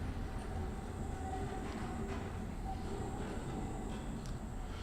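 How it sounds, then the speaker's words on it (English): A rickety monorail in the video game Abiotic Factor rolls along its track with a low, steady rumbling clatter and faint scattered creaks, heard continuously and fairly quietly. "this is the most rickety monorail I've ever seen"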